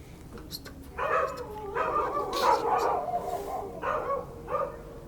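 Dogs bark outdoors at night near a forest: a few sharp, fairly close barks and yelps in irregular bursts over a low background hum.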